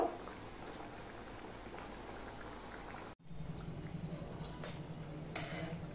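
Oil bubbles and crackles continuously as thick sweet khaja pastries deep-fry, with a brief cut partway through before the steady frying resumes.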